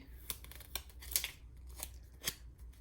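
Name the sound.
peeling backing off a vinyl sticker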